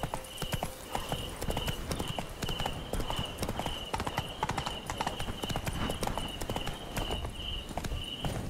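Roach the horse gallops in The Witcher 3, rapid rhythmic hoofbeats pounding close and steady throughout, with a faint repeating tone above.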